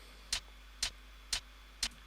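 Percussion sample used like a hi-hat in a hip-hop type beat, four crisp evenly spaced ticks about half a second apart over a low steady hum, with no voices.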